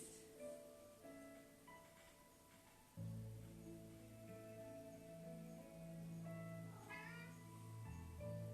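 A cat meows repeatedly at close range during an adult and teen pilates class, its cries rising over sustained background music and a low steady hum.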